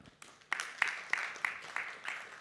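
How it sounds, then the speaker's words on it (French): An audience at a retail e-commerce startup pitch event claps in a sparse, steady rhythm of distinct claps, moderately close and fairly quiet, with no talking over it. "je vous demande de les applaudir extrêmement fort"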